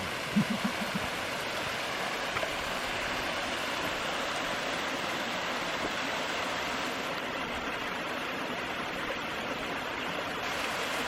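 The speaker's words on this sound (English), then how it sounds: "We got a little tiny waterfall, water running down the mountain over here" A tiny mountain waterfall in northwest Montana in springtime, its water running down the slope as a steady, continuous rush of broadband noise, moderately loud and unbroken, with no voices over it.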